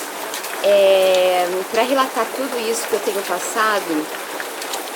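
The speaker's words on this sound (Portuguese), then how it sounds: "Tá chovendo." Steady rain falls throughout as a continuous, moderately loud hiss, while a voice talks over it for most of the clip.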